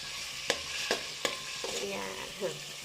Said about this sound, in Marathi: आलं, लसूण, कांदा याची बारीक पेस्ट करून घेतली होती, ती आपण तेलामध्ये टाकून घेतली आहे. छान अशी परतवून घ्या